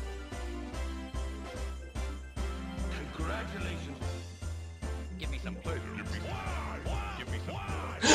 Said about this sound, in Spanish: observad los gritos de Cell en toda su esencia ahora, porque son putos memes